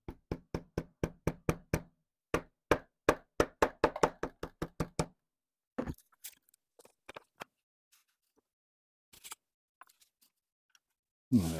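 Someone taps a 1947 Parker VS fountain pen to knock out its feed, a rapid series of about twenty sharp, evenly spaced knocks, then scattered fainter clicks and handling sounds, ending in one louder thump.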